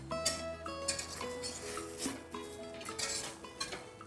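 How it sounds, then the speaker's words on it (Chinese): Korean-style glass noodles and water spinach are tossed in a pot, giving soft clinks and scraping of a utensil against metal in uneven bursts, quiet and close, with no voices. "水莲放进来之后呢，我们在锅中兜几圈就准备要起锅喽"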